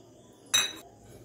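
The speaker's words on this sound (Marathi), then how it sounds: "मी टाकून घेते 1 वाटी साबुदाणा" One bowl of dry sago pearls is tipped into a kadhai on a low gas flame, making a single brief, bright rattling clatter that fades within a fraction of a second.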